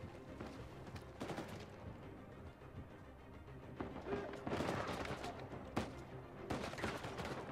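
Gunfire in the video game Uncharted 4, bursts of shots and machine-gun rattle, quiet and distant-sounding, scattered across several seconds of battle with occasional sharper cracks.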